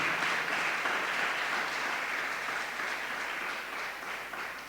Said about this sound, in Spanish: Dale otro aplauso al Señor, aleluya.